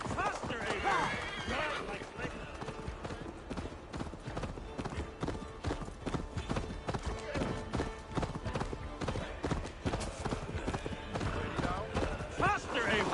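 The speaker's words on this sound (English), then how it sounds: "Ride like Sleipnir's hooves! Your horse is slow, and her rider's drunk" Galloping horse hooves in Assassin's Creed Valhalla, a steady clip-clop rhythm running throughout under in-game character dialogue and a busy game soundscape.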